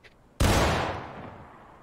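A single massed rifle volley bursts out at once on command in the Civil War game War of Rights, a loud close crack followed by a long rolling echo that slowly fades.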